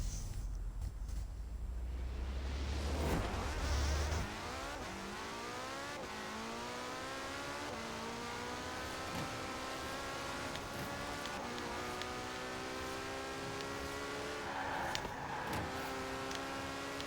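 Race cars in the Forza Horizon 4 video game rev and accelerate through rising gear sweeps, steady engine drone continuing throughout after a brief quieter start, with no talking.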